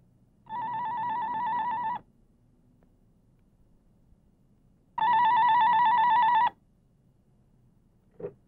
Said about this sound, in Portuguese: Pô, Bruno, você demora pra atender, hein?